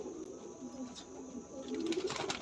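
Soft coos of high-flying breed pigeons murmur through a loft, a few birds calling over a low, steady background with faint chirps.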